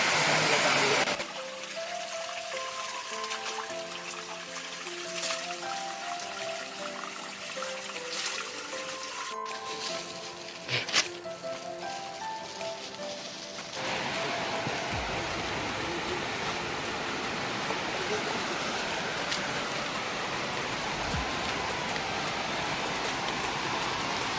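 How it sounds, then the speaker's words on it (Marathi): Music plays at first, then gives way to the continuous rushing of a flowing river in the Sahyadri forest, steady and fairly close for the rest. "आपण आता आलोय नदीवर तर आपल्याला नदी लागणार आहे"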